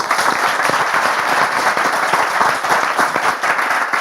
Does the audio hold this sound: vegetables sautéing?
no